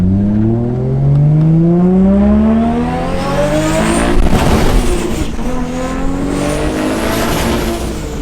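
A 1000 hp RB25-swapped Nissan R32 revving hard, the engine pitch climbing in repeated sweeps, then a sharp pop-like burst midway, loud and close.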